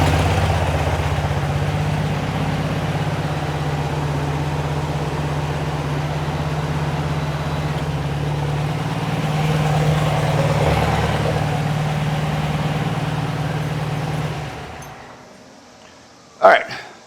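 A 1972 VW Beetle with a dual-carburetor engine idles steadily and fairly loud for about fourteen seconds before the sound drops away, followed by a brief sharp clunk near the end.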